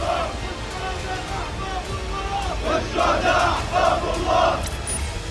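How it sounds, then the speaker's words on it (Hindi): A street protest crowd in the Tulkarm area of the West Bank chants slogans against Israel before dawn, rhythmic massed voices rising and falling in repeated bursts, loud and dense. "सुबह होने से पहले लोगों ने सड़कों पर निकलकर इजराइल के खिलाफ जमकर नारेबाजी की।"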